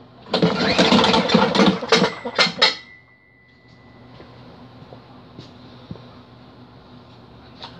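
A Craftsman leaf vacuum engine with no spark being cranked, about three seconds of loud, rapid pull-start cranking that sputters without catching, then quiet handling noise.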